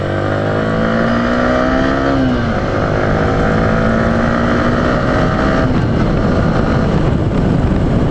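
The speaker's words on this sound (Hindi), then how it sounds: "थोड़ा सा यहाँ पे खाली रास्ता है, रेस करते हैं बाइक को।" A Yamaha R15 V3 motorcycle accelerates hard on an empty road, its engine tone climbing through the gears with a brief dip at a shift. Wind rushes over the microphone throughout, and no one speaks.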